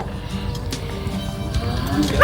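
Dogs barking in a Philippine barangay village, a few sharp barks scattered under ongoing talk, with outdoor background noise.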